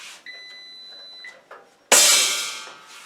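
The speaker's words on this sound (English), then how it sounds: "my machine is beeping, so now I know it's ready to turn on." A Magical Butter Machine gives a couple of clear electronic beeps in a quiet room, followed by a sudden louder whooshing burst as it starts up.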